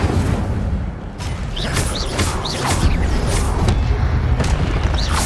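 In the video game Hogwarts Legacy, spells are cast amid loud, dense bursts and booms with whooshing swishes, an incendio fire spell among them. The sound is continuous and heavy, with no clear speech.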